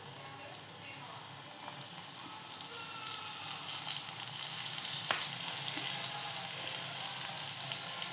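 Snacks frying in plenty of hot oil in a home kitchen pan give off a steady, dense sizzle with crackling pops throughout, growing slightly busier toward the end, close and continuous.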